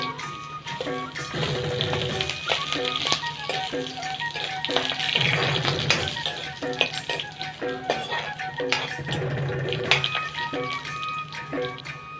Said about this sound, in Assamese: ইয়াত মই এতিয়া নহৰুখিনি দি দিওঁ